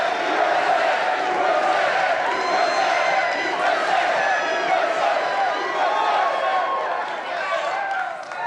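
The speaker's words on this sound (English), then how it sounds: "Crowd is loud, ain't it?" A dense, loud crowd cheers and whoops without pause at a Trump rally, the roar easing only slightly toward the end.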